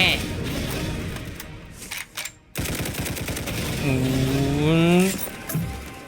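Rapid automatic gunfire rattles in the Roblox first-person shooter Hypershot, dense bursts with a brief gap, while someone talks excitedly over the shooting.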